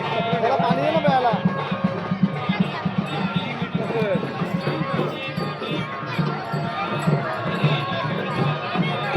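Crowd bustle at a village fair during an aarti, dense chatter and shuffling of many people close by, with steady near talk running over the noise.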